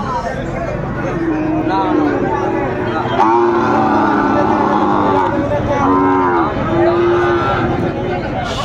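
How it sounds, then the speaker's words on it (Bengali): Sahiwal cattle at a busy cattle market let out several long moos, some close and loud, over a steady hum of crowd chatter. "বেশ সুন্দর গরুগুলো।"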